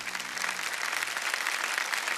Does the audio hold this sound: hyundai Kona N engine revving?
no